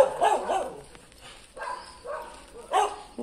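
An angry dog in a residential street in Daimiel barks in three separate bursts, fairly close and moderately loud, with short pauses between them.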